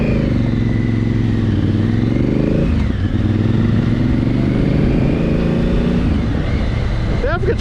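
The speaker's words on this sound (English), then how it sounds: "Oh, I like the sound of this bike." A Honda Africa Twin motorcycle engine runs steadily and loud throughout, a continuous low rumble with a brief dip in pitch midway, as if riding along during a demo tour.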